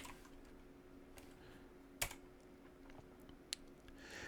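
Keys on a computer keyboard are tapped to enter a playlist name: sparse, soft keystrokes close by, with two sharper clicks standing out and no speech.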